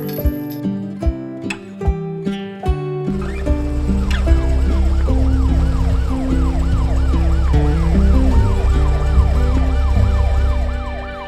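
Wailing ambulance siren from an animated rescue cartoon about a fuel truck with brake failure, sweeping up and down continuously over a steady engine drone after a few opening musical plinks.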